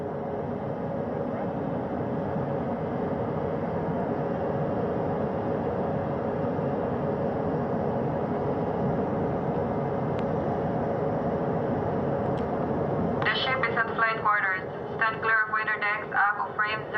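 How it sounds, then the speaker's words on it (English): A helicopter on a ship's flight deck at sea, a steady droning rotor and engine roar held at even level, with voices talking over it near the end. "As that third helicopter touches down."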